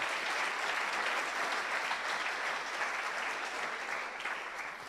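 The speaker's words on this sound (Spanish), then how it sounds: "Dele el mayor aplauso al Señor si le quiere dar." Sustained applause from a large crowd, dense and even throughout, with no talking over it.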